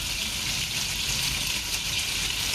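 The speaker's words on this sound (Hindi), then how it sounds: "अब हम अपना जिंजर गार्लिक पेस्ट डालेंगे" Ginger garlic paste sizzling in a hot pan while cooking mutton pulao, a steady, moderately quiet hiss of frying that runs without a break.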